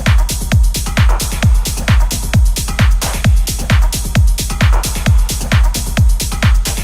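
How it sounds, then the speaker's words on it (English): A full techno drum pattern plays with every drum combined: a steady pounding kick on each beat, bright hats and ride cymbal layered over it, with reverb on the percussion, in a loud and relentless groove. "All of the drums together sounds like this."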